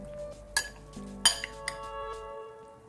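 Chicken and pork get stirred in a cooking pot for caldereta, with a few sharp clinks of a utensil against the pot over a quiet background, close and fairly soft.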